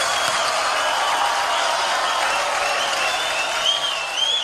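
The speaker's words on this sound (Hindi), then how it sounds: "एक बार जोरदार तालियां पूरे गिल्ड के लिए" Loud, dense applause from a large awards-show audience for a film producers guild, a continuous roar of clapping with crowd noise that holds steady throughout.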